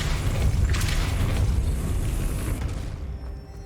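A Depulso force spell cast in Hogwarts Legacy, a loud rumbling blast with a rushing, sustained boom that fades out over a few seconds.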